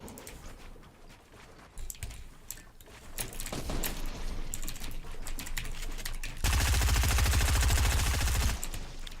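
Rapid gunfire bursts in the Fortnite video game on PS4 during a 1v1 match, dense crackling shots that build up and end in a loud sustained barrage, with no voices.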